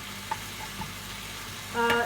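Stewed chicken sizzles steadily in a pan, with a few light clinks of a utensil; quiet and close, no talking.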